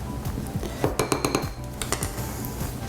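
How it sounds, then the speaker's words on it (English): Flour, salt and baking powder are stirred together in a mixing bowl for chocolate chip cookie dough, giving a run of close, quick clinks and scrapes of a utensil against the bowl, most dense in the middle. "Give it a little stir"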